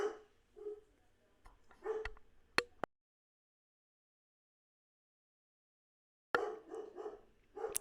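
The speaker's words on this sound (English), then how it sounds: "And the dogs are barking." Dogs bark in short bursts at a distance, fading out to silence, then resuming with a few more muffled barks.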